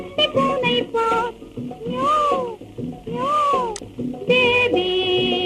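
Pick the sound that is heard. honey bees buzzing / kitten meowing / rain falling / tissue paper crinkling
kitten meowing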